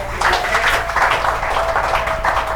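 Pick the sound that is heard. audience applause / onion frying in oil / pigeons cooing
audience applause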